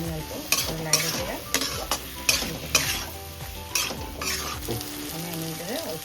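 Potatoes frying and stirred with poppy seed paste for Bengali aloo posto, a steady sizzle with repeated scraping strokes of a spoon against the pan, close and fairly loud, with no talk.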